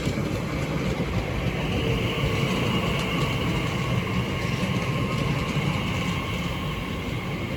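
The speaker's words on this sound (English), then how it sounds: "Now arriving is the 12:41 TfL rail service from London Paddington to Hain and Harlington, being worked by a Class 345" A Class 345 TfL Rail electric train pulls into Ealing Broadway station with a steady, loud, rushing rumble of wheels on track that stays even throughout, no voices over it.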